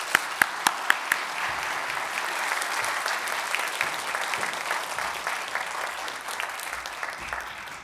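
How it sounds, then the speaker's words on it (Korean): A church congregation at a Sunday service applauds to welcome a professor, a few crisp claps up front swelling into loud, dense, sustained clapping from many hands that carries on steadily. "우리 강량현 교수님 나오실 때 우리 박수로 환영하겠습니다."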